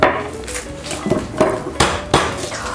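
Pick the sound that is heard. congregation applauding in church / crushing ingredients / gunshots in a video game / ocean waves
crushing ingredients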